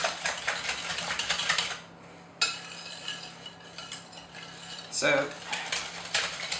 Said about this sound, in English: whisk it all together, make sure there's no lumps of flour, make sure there's no lumps of cream cheese